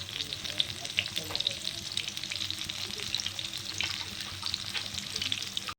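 A whole fish roasts on a hot tawa with a steady, dense sizzle and crackle of oil, close and continuous with small pops throughout.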